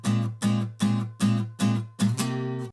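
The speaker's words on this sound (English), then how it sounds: "we're gonna play it and then release the tension on our fingers, but keep our fingers on the strings" A guitar chord is strummed six times in an even rhythm, each hit choked off short by releasing finger pressure while the fingers stay on the strings, giving a percussive, clipped attack; the last strum rings slightly longer.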